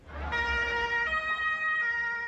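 An ambulance siren wails loud and steady with a strong tonal pitch that shifts twice over a couple of seconds, heard in a news report from the scene of a van attack on a parade route in Berlin.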